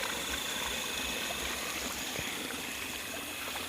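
Water runs steadily in a rural stream in Chaiyaphum province, Thailand, a continuous broadband rush and trickle that stays even throughout, close by, with no voices.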